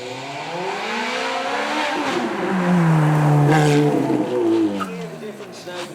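A car with a Rover V8 engine of about 260 horsepower, revving loudly nearby at a supercar show, its deep engine note rising and falling in pitch over several seconds.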